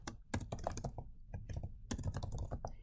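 Fingers type on a computer keyboard close by, producing quick irregular bursts of key clicks with short pauses between runs, heard on their own at a modest level.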